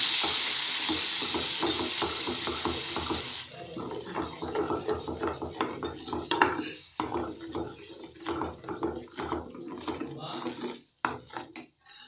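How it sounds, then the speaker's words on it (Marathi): Onion and tomato gravy hits a hot pan with a loud hiss that soon gives way to repeated scraping strokes of a spoon stirring, close and uneven, with brief pauses and no talking. "त्याच्यामध्ये कांदा आणि टोमॅटोची ग्रेव्ही टाकून घेऊ।"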